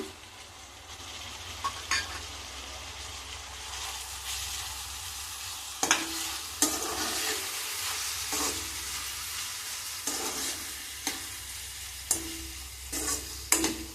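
Dried prawns frying with onion pieces in a pan give off a continuous close sizzle, broken by occasional sharp scrapes and clacks of a stirring utensil against the pan.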